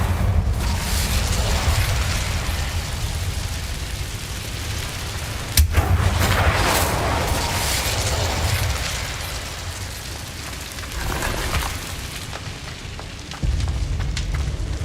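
An Incendio fire spell is cast in Hogwarts Legacy, a loud roaring whoosh and rumbling burst with booming impacts that keep going for several seconds, with no talking.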